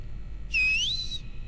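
A player character whistles in the co-op horror game Backrooms Escape Together: one clear whistled note, level at first and then sliding upward, lasting under a second over a low background hum.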